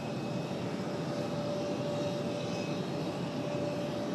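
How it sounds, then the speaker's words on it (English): An American Airlines Boeing 737-800 sits with its jet engines running before departure, a steady broad roar with a thin constant whine, heard from a distance at an airport with no talk. "Got a 737 American, 737-800, getting ready for departure here."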